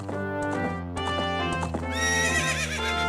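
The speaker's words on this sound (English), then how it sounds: "Now we got ourselves a horse." In the video game The Legend of Zelda: Ocarina of Time, a horse gives a loud, ringing whinny over steady clip-clop hoofbeats and game music, with no talk.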